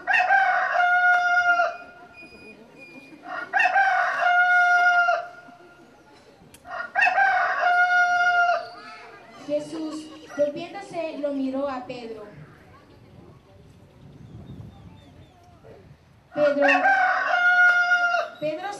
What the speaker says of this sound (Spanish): Todavía estaba hablando cuando cantó un gallo.